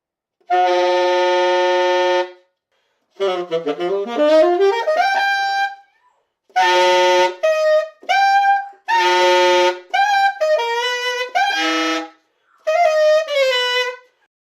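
Saxophone altissimo and multiphonic playing: bright, sustained high tones with stacked overtones, some bending and sliding in pitch, in several separate phrases with short silences between them, played solo and up close.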